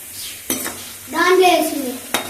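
A spoon scrapes and stirs arbi root curry in a pan, with a soft sizzle underneath, a sharp clink at the start and end and a louder scraping swirl in the middle.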